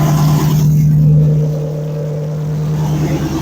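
Cold Chevrolet Tahoe with an LS swap idling, a loud, close, steady low drone with a strong hum that eases slightly partway through.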